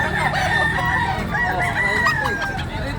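A native rooster crows loudly and close by in a farmyard in Baliwag, Bulacan, with crowing lines continuing throughout and other chickens clucking in the background.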